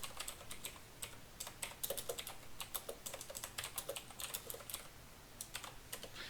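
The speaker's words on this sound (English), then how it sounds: "You can type in text." Rapid keystrokes rattle on a computer keyboard while text is entered into a spreadsheet, a close, quiet, steady stream of taps with no talking.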